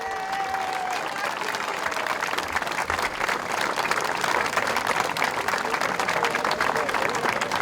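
A crowd at an outdoor religious procession of crosses in Zuglio applauds warmly, steady massed clapping that builds slightly in strength and holds throughout.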